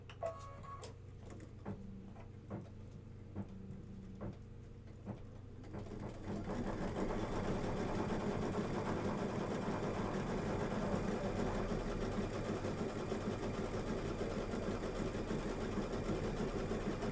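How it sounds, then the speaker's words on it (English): A sewing machine stitches a basting line on a Kimberbell Save the Date October pillow, starting with a few sharp ticks and clicks, then settling into a steady, loud, continuous motor hum with rapid needle clatter. "It's going to stitch a basting line."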